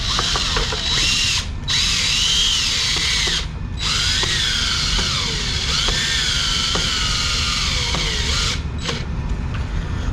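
A power drill drives a screw into a wall while a sprinkler controller is mounted, a loud, close, steady whir running in bursts with brief pauses and pitch shifts, and no talk.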